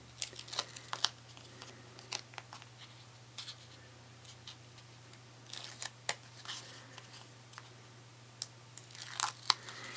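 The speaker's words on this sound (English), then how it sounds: "I love score tape because you can just rip it so easily" Score tape is ripped and handled in a quiet room, making short, crisp tearing and crinkling bursts scattered irregularly over a low steady hum.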